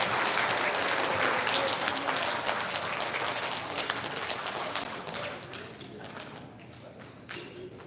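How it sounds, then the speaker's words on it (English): At an elementary school recognition ceremony, a crowd applauds the special areas staff, loud at first and then gradually thinning and fading, with some voices audible underneath. "Let's have a big round of applause for all of our special areas."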